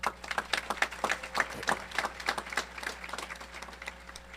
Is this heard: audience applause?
yes